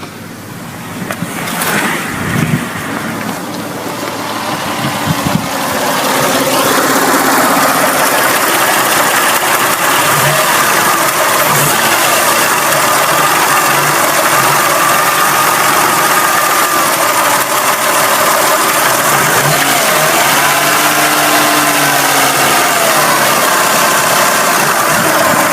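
A 1992 Lexus ES300 engine catches after a few clunks and cranking, then settles into a loud, steady idle with slight revving, close up and continuous, with no talking.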